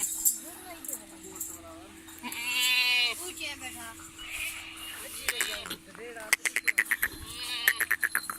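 A goat bleats loudly up close on a goat farm, a wavering cry rising above people talking nearby, followed by a run of sharp clicks and knocks.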